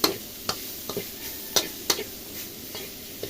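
Spring onion and chili stir-fried in a pan for a pork chili dish, a utensil scraping and clacking against the pan in irregular strokes over a soft background sizzle.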